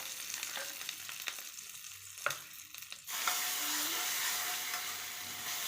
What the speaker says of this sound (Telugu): తాలింపు గింజలను యాడ్ చేసుకోవాలి. కొద్దిగా కరివేపాకు.